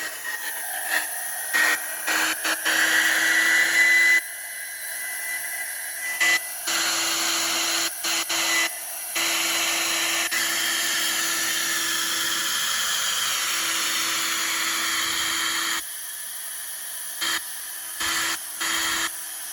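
Hair dryer on a cool setting blowing over paint for a bloom technique, a steady whirring airflow switched on and off in stretches of varying length, close and fairly loud.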